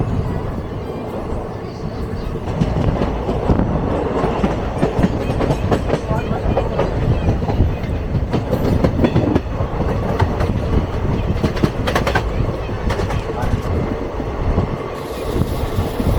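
Aboard a passenger express train on the Nagercoil to Chennai Central route, a steady rumble and clickety-clack of wheels on rails continues as the train runs through stations without stopping.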